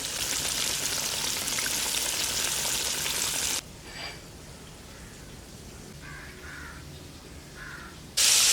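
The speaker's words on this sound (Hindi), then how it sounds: "10 मिनट के लिए इनको फ्राई करना है।" Crumb-coated KFC-style zinger burger chicken pieces deep frying in oil make a loud, dense, steady crackling sizzle that drops away to a quiet stretch with faint clinks, then returns loudly at the end.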